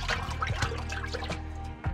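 Water sloshes and splashes as a bait tank for shiners is stirred up, irregular churning and dripping at moderate level, with no talking.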